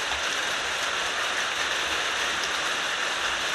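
Steady rain pours down outdoors while someone shows off a raincoat; a dense, even hiss of drops on surfaces runs continuously and close, with no voices.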